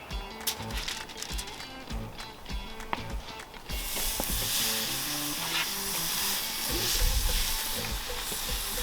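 A dry aged tomahawk steak hits a Weber charcoal grill and breaks into a loud, steady sizzle that swells and holds after a few faint clicks and handling sounds.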